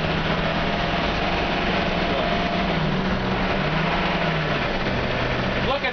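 Engine of a 2002 Goshen Coach Workhorse 20-passenger bus running steadily with a low drone, near and loud, with a slight shift in pitch partway through as it changes gear.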